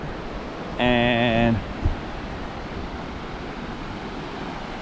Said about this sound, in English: so there are small waves up there.